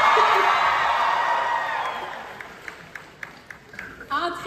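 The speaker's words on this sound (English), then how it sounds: "let me finish my line, then you can scream, okay?" At an anime convention masquerade cosplay contest, the audience screams and cheers loudly, and the roar fades over a few seconds into scattered whoops and voices.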